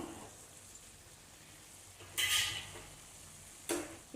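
Rice flour being stirred into a cauliflower fry in a pan, heard as two brief scraping strokes of a utensil against the pan over an otherwise quiet kitchen background.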